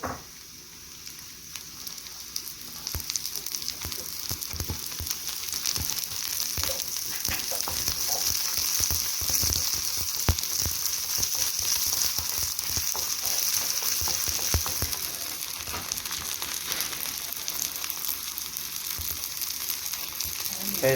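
Green chillies frying in hot oil in a pan, a steady close sizzle holding evenly from start to finish, with a few small crackles and no talk.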